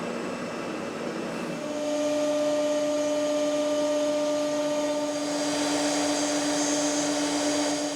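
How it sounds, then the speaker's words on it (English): A router cutting out wooden pieces for a support wagon build, a loud steady high-pitched whine that rises in strength after a couple of seconds and holds on with a droning tone. "Now all we've got to do is cut those bits out on here on our router over here."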